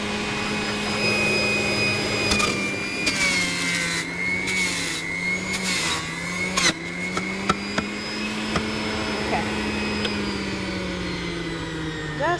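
A blender purees zucchini and other produce for juice, its motor whining loudly and steadily while the pitch sags and rises and occasional clunks sound as the load shifts.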